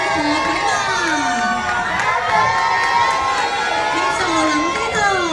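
A packed cinema crowd at a film thank-you screening screams and cheers loudly and continuously, with high shrieking voices rising and falling together.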